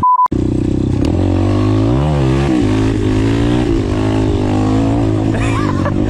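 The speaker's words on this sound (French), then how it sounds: "un petit wheeling en première comme ça" Apollo Sano DMZ 250 dirt bike revs hard and loud close by, engine pitch sweeping up and down through a first-gear wheelie, continuous and unbroken for several seconds.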